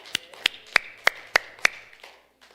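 A church congregation claps in a Sunday service, six sharp, evenly spaced claps in steady rhythm, then fading to a couple of softer ones.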